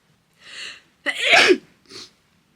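Three sneezes from one person in quick succession: a soft breathy one, then a loud, sharp full sneeze, then a smaller fading one, each alone against a quiet background.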